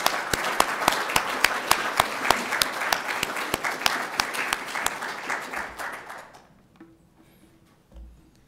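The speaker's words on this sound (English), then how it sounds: "Let's give all of them a round of applause," Audience at a poetry reading in a library applauding, a dense burst of clapping with a few sharp individual claps standing out, fading out after about six seconds into near silence with a faint bump near the end.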